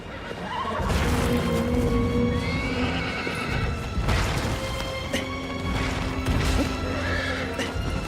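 Horses whinny loudly and repeatedly over steady hoof clip-clops, with crashing thuds mixed in, all sounding like game audio.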